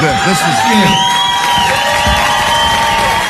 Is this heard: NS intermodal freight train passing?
no